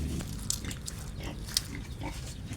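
Domestic pigs grunting and snuffling close by near their pen, a steady low jumble of animal noises with a couple of sharper squeals standing out.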